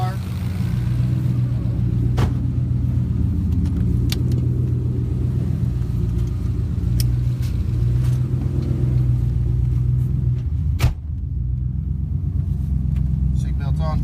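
A Coyote-swapped Cobra's engine rumbles deep and steady from inside the car during a ride, with a few sharp clicks over the continuous low drone.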